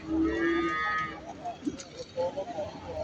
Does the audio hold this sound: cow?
yes